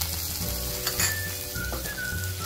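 Chopped onion sizzles in a hot pan with red chili powder and turmeric for Maharashtrian zunka, a steady close frying hiss with a faint clink partway through and no talking.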